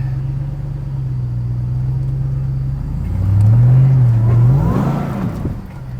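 A 707-horsepower RAM TRX pickup idles, then revs briefly with a deeper, louder surge as it climbs an off-road obstacle, before settling back down.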